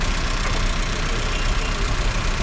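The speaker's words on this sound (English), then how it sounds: "Around 15 minutes will be required to idle the engine with this particular chemical" A Honda City SV petrol engine idles steadily with an oil-flush chemical in the crankcase during a basic service, giving a close, even, continuous mechanical hum with no talking.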